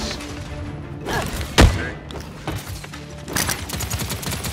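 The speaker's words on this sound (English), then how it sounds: "They're firing on me!" Gunfire in the hero shooter Paladins: a sharp, loud shot rings out near the middle, with scattered bursts and thuds of combat around it in a busy game mix.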